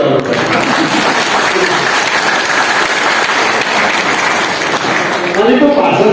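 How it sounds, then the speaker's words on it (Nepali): Dense, sustained applause from a crowd at a political speech gathering, loud and steady throughout, with a slight swell near the end. "अब यो तालीले हेर्नुहोस् कि बजाउँदै जानु बजाएपछि जोडले बजाउनु पर्छ।"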